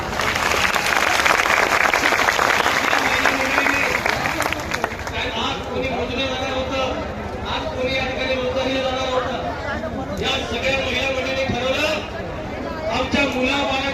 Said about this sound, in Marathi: आपण जोरदार टाळ्या वाजवल्या पाहिजे